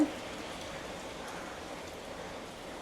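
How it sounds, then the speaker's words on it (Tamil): Steady rain falling around midnight in Jaffna, a soft, continuous hiss throughout with no voices. "இப்போ மட்டும் இந்த மழை குறைவனான் இருக்குது ஏன்னா தொடர்ந்து மழையாக இருக்குது"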